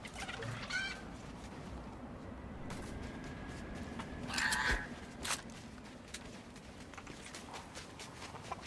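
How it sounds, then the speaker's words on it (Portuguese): A chicken in the video game Fortnite gives a few brief clucks over steady in-game ambient noise, with a slightly louder burst partway through and no talking. "A galinha tá puta."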